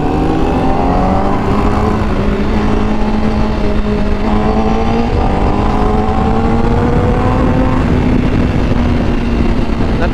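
A Honda Fireblade sport motorcycle revs hard, and its loud exhaust note rises and falls up close. The throaty roar holds steady throughout with no talking over it.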